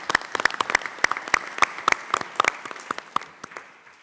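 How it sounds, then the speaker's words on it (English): A round of applause at a joint county and city government meeting, a brief burst of many hands clapping in a room that thins out toward the end. "a round of applause"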